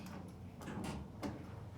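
A Montgomery MX North elevator door in a Pittsburgh building slides open or closed quietly and smoothly, with soft rumbling motion and a few faint clicks at low volume.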